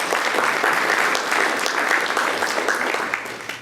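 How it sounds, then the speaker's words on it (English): A community-day audience in Silicon Valley gives a loud, dense round of applause for a guest speaker. The clapping is sustained and close, then begins to taper at the very end. "a big round of applause for Pandit Khona"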